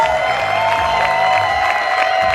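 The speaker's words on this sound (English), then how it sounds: "Can we give a huge round of applause to our volunteers?" A community crowd cheers, whoops and applauds for volunteers, a loud, dense wash of voices and clapping that holds steady throughout.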